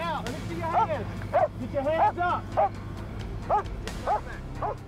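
A police dog tracking a suspect barks and yelps in a series of sharp, fairly close calls, about nine barks over a few seconds, with a voice speaking underneath.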